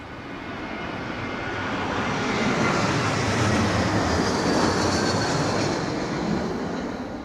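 A Boeing 767 at London Heathrow during Storm Darragh gives a broad jet roar that swells to a loud peak mid-pass and then slowly fades.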